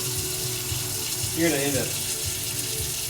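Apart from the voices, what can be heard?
pot being filled with water from a tap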